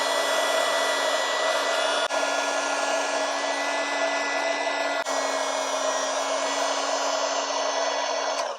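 A heat gun blows steadily and loudly without a break while vinyl wrap is warmed and stretched over Rivian crossbars, a constant close whine that cuts off abruptly at the end.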